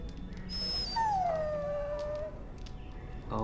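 A dog in the video game Dragon Age Origins lets out a long, high, drawn-out whimpering whine, then a fainter falling whine, close and alone over a low background hum.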